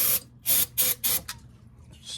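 Short, loud hissing blasts of starting fluid sprayed onto a 1952 Dodge Meadowbrook engine: four close bursts in quick rhythm, then a weaker fifth and a faint final spurt.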